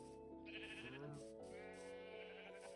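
Two drawn-out sheep bleats from Minecraft, close and clear, one after another with a brief gap between them.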